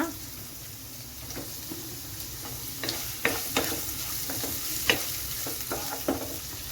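Ginger and onion frying in a pan for Kerala-style oats upma, with a steady background sizzle and a string of sharper crackles and spoon scrapes as the pieces are stirred, close and fairly quiet.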